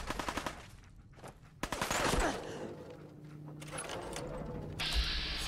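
Gunfire in the Fallout 4 video game: a rapid string of shots at the start, then sharp bursts of automatic fire with mechanical clatter, loud and close, with no talking.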